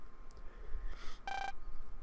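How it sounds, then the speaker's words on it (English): Phone ringing in the video game Mega Man Star Force 2, a short, faint electronic tone burst lasting about a quarter second, alone. "There's the phone."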